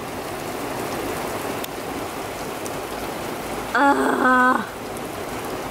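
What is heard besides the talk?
heavy rain falling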